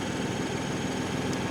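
A New Holland Workmaster 75 tractor engine idles steadily at close range, a low continuous rumble with slight vibration and no change in pace.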